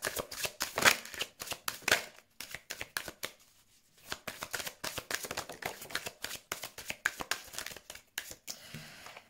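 An oracle card deck being shuffled by hand gives rapid, crisp riffling bursts in quick succession, close to the ear, with a brief quiet pause partway through before the shuffling resumes.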